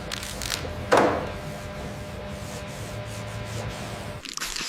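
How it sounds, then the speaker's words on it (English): A car body panel on a Tesla Model 3 is wet sanded by hand, giving a continuous close rubbing and scraping texture with a brief thump near the start and a short pause near the end. "Wet sanding. We're chasing a reflection now."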